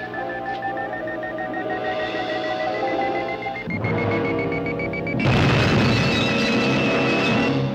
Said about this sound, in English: did it start beeping faster and faster before?